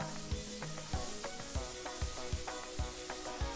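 Strips of papad stirred in a hot pan with a steady sizzle, regular scraping and tapping of the spoon against the pan marking an even rhythm throughout.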